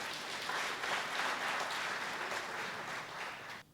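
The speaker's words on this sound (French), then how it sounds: "Merci d'applaudir pour vous." A crowd claps steadily and densely at a political gathering, the applause holding at an even level for several seconds before cutting off abruptly.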